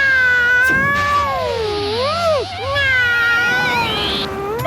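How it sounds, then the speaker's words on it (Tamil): A cartoon cat gives a loud, drawn-out wailing meow that bends up and down in pitch, close and continuous, with voices faintly underneath. "அந்த பூனையோட சத்தம் கேக்குது"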